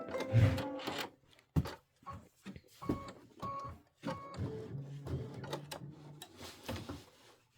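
An Aveneer embroidery machine with a 6x10 hoop stitches out a tile design, giving close, uneven bursts of mechanical chatter and whirring with short pauses between runs, and no one speaking.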